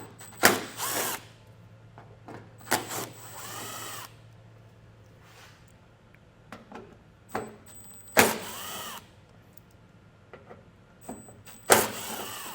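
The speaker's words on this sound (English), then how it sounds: "we're going to have 4 T25 Torx screws. Just going to go ahead and get those removed." A power drill driving out T25 Torx screws beneath a 2025 Volvo XC60, heard as several short, whining bursts separated by quiet pauses with clicks and handling noises in between.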